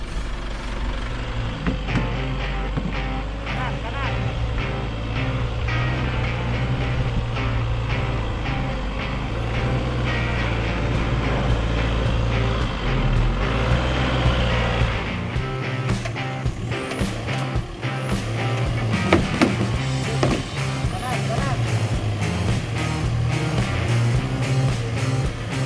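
Isuzu MU-X 4x4 pushing through a river, a loud continuous engine rumble with splashing and rushing water throughout, the tone shifting partway as the vehicle moves on.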